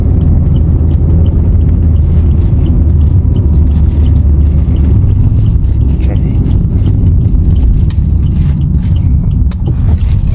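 A 2012 Suzuki Ertiga GL with a manual clutch drives along and turns around, giving a continuous low road rumble and engine hum with scattered scrapes and bumps, close and steady throughout.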